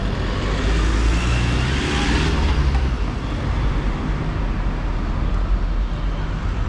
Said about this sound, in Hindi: पहले गाड़ी आ रही, गाड़ी आ रही।